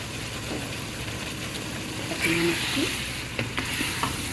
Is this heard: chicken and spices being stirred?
yes